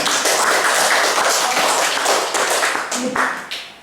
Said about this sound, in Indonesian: Hari ini tepuk tangan untuk kita semua